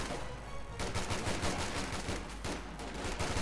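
Rifle and machine gun fire crackles in a Company of Heroes 2 battle, a continuous rapid stream of shots at moderate distance, fairly quiet and without any talking.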